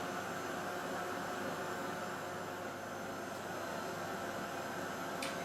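A heat tool blows hot air steadily onto UTEE embossing powder as it melts, a constant close whooshing drone with an even, unchanging hum throughout.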